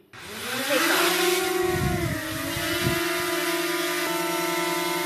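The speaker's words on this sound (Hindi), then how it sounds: "ये देखिए हमारा ड्रोन टेक ऑफ कर चुका है" A DJI Mini 2 drone spins up and lifts off, its propeller whine rising quickly in pitch then settling into a steady high buzz, close and loud.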